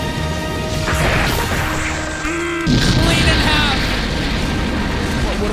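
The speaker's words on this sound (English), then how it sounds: "What about that explosion though?" A sudden loud crash bursts out midway, with a descending whoosh just before it, over dense, continuous game noise and music.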